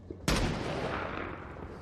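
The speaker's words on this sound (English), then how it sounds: "Is the tank shooting up there?" A loud, single tank gun blast from the World War II battle in Saving Private Ryan, with a sharp onset followed by a long, rumbling roar that fades slowly.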